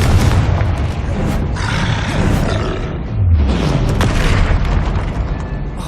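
In the Hogwarts Legacy video game, a Confringo spell sets off deep booming explosions, two big blasts with rumbling roar and crackling debris, loud and close, with combat effects layered throughout.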